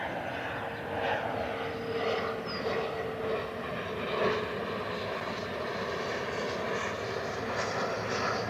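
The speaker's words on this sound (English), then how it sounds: "Here's the G280." A Gulfstream G280 business jet at Cleveland Hopkins airport gives a steady, broad jet-engine roar that holds evenly throughout, heard from a distance with no talking.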